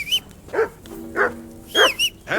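Dog barking in the video game Kingdom Come: Deliverance II: five or six sharp, close, loud barks at irregular intervals, with no speech.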